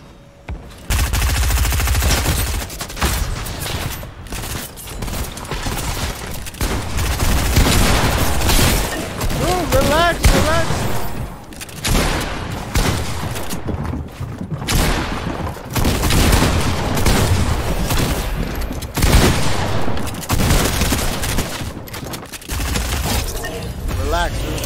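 Near-continuous bursts of SMG fire in the Fortnite Chapter 2 video game, rapid rattling volleys with brief pauses, loud and sustained across the stretch.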